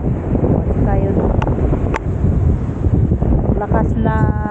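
Strong sea waves at low tide buffet the shore with a steady loud rush, heavily mixed with wind blasting the microphone, and a voice speaks briefly over it.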